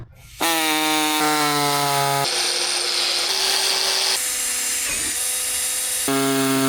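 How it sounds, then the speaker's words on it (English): A power tool whines loudly as it cuts headlight holes into a plastic golf cart body, a sustained close tonal drone whose pitch shifts in several steps as the load changes, with no talking. "All we have left now is to start cutting holes."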